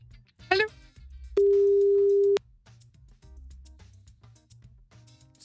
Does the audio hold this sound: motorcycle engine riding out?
no